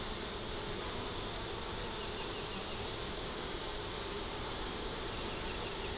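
Honey bees buzz steadily at a hive as foragers bring in pollen, a continuous close hum with a few faint clicks spaced through it and no voices.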